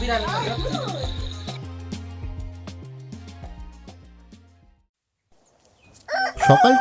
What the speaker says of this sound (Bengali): নেপালে ঘুম ভাঙল পাখিদের ডাকে